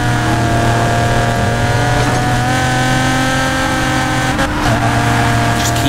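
Racing car engines in the street-racing game Need for Speed Payback, a loud, continuous droning roar with steady engine tones and a brief whoosh near the end, no talk.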